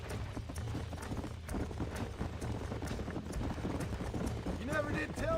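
Rapid clip-clop of several horses galloping in the video game Red Dead Redemption, steady and fairly loud, with a brief whinny near the end over background music.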